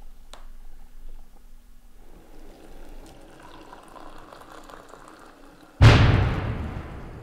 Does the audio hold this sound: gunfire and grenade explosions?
yes